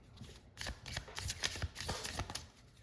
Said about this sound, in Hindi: Just 1 shuffle.